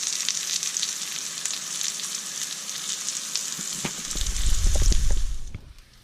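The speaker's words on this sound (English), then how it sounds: "what that butter is going to help do is kind of really fry. We kind of want to like fry the mushrooms a little bit" Mushrooms sizzle steadily in butter in a pan, a continuous bright frying hiss, joined near the end by heavier crackling and a few thumps as onions are added and stirred.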